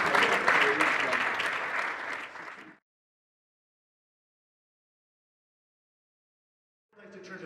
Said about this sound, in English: Give it one more round of applause for the saxophones.